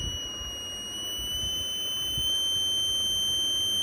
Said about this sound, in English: carefully note down the volume of the buzzer